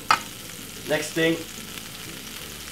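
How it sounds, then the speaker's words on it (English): Butter sizzles softly and steadily in a frying pan as the base for garlic prawns, a low frying hiss running under a few brief spoken words. "get the butter all over the frying pan like this"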